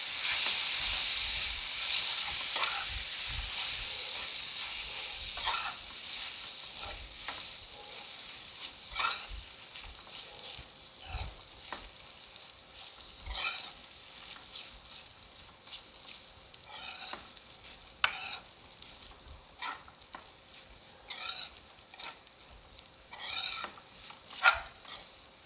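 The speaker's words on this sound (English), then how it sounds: "Now adding my spaghetti to the sauteed garlic and parsley. Just going to give this a good mix together." Spaghetti tossed with sauteed garlic and parsley in a hot pan, a soft continuous sizzle under repeated clinks and scrapes of a utensil against the pan, close and moderately quiet, no speech.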